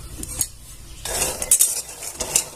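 Peanuts being stirred as they roast in a pan on a gas stove: a spoon scrapes and rattles against the metal, with nuts clattering in short bursts up close and no voices.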